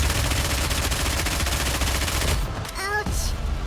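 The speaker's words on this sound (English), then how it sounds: "Those cannons." Cannons fire in the video game NIKKE, a rapid, loud stream of booming shots that rattle continuously before a brief break and a few descending tonal effects near the end.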